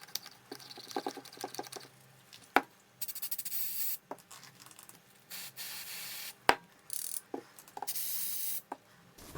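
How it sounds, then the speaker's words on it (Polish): Aerosol contact cleaner sprayed on the potentiometer of a BMW M52TU throttle body in short hissing bursts, mixed with clicks and taps of handling the part, close and with no talking. "Kupiłem taki spray do regeneracji potencjometrów"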